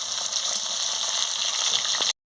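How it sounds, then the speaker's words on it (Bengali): Potatoes frying in oil in a home kitchen, a steady bright sizzle running close and continuous for about two seconds with no talk, then stopping abruptly. "লাল লাল করে আমি আলুটাকে ভেজে নিচ্ছি"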